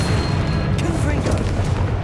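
Confringo spell explosion in Hogwarts Legacy, a loud, deep rumbling boom that fills the brief moment up close, with a voice present in the mix.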